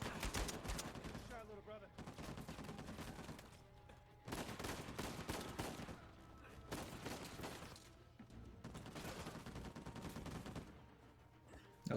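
Rapid bursts of gunfire from the video game Uncharted 4, dense crackling volleys in several clusters separated by short pauses, fairly loud and continuous over background game sound.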